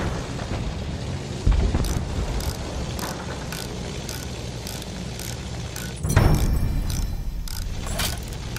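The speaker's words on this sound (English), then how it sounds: "Sighted! Enemy big guns!" Enemy artillery in Battlefield 1 on Monte Grappa, with two heavy booms landing a few seconds apart over a constant rumbling battlefield bed and scattered rapid clicks and rattles.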